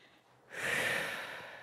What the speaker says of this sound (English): And you keep breathing. It's big,